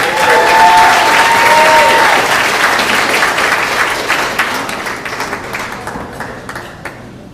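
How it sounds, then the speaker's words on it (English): A live comedy show audience applauds Gallagher in Salina, Kansas: strong, close applause that starts full and gradually thins into scattered claps as it fades out, with a brief ringing tone early on. "Give him applause."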